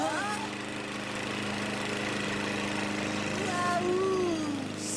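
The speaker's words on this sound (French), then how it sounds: "Ça, c'est de la tondeuse!" Steady droning engine hum of a lawn mower running continuously, with a few faint whistling tones over it.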